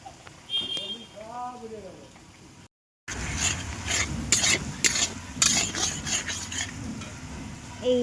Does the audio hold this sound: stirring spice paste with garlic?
yes